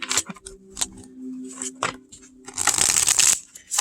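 A tarot deck being shuffled up close: several quick riffling bursts, then a longer, louder continuous shuffle toward the end, with no talking.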